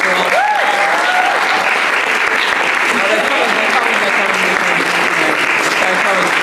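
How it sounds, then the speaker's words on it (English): Sustained applause from a large crowd at a certificate presentation, dense and steady throughout, with a few faint voices and whistles mixed in. "Give them a big, big round of applause."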